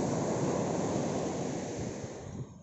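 Sea waves wash onto the shore in a continuous, close roar of surf, fading slightly at the end.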